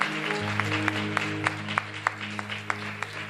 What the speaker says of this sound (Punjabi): ਇੱਕ ਵਾਰ ਜ਼ੋਰਦਾਰ ਤਾੜੀਆਂ ਯਿਸੂ ਮਸੀਹ ਦੇ ਲਈ।